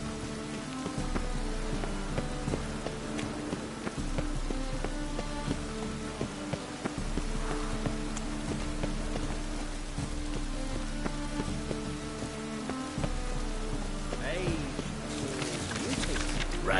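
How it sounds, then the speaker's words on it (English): Steady rain pattering in the Witcher 3 video game, soft and continuous with faint hoof-like clopping and game sounds layered underneath. "Rain again."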